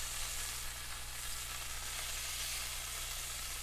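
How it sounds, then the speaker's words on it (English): Tuna steaks sear in a hot pan with a steady, loud, unbroken sizzle from start to finish. A low hum sits underneath, and no one talks. "I'm gonna take our tuna steaks out of this hot pan now."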